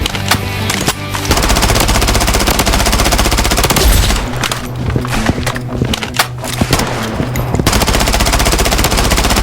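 A rifle fires in the shooter video game Blood Strike in loud, rapid automatic bursts, rattling nearly nonstop with short pauses between strings of shots.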